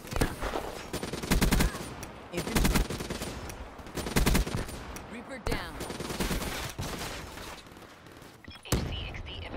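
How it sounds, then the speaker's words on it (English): Gunfire rattles in Call of Duty Black Ops 3 as players shoot at a robot, repeated bursts of rapid automatic shots with short gaps, mixed with game effects and some player speech. "Get some shots into that robot if you can."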